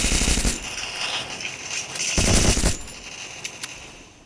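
Rapid bursts of automatic machine gun fire in a video game, loud and continuous for several seconds, then tapering off into a few scattered single shots near the end.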